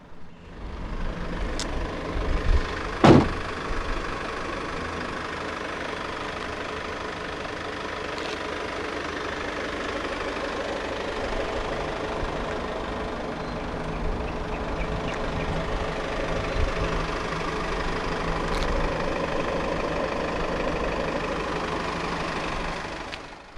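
A 2017 Peugeot Traveller 2.0 BlueHDi diesel engine idles steadily with a low, even rumble throughout, with one brief louder knock or clunk near the start.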